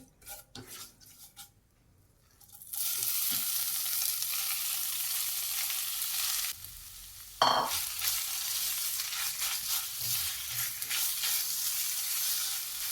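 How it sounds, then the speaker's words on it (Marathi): Finely ground grated coconut sautés in a pan for Maharashtrian fried modak, giving a steady moderate sizzle that starts after a few seconds of quiet clatter, with occasional scrapes of a spoon stirring. "एक दोन मिनटं परतून घेऊया"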